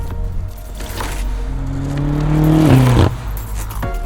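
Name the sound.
2023 BMW M8 Competition Convertible driving off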